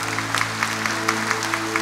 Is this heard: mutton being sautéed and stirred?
no